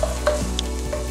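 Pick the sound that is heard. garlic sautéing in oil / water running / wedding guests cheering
garlic sautéing in oil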